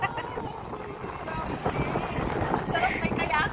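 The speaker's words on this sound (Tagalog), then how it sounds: "Sobrang lamig, mahangin talaga dito." Strong wind gusting outdoors in cold weather, buffeting the microphone with a steady roar that rises slightly toward the end, with water or boat sounds faintly underneath.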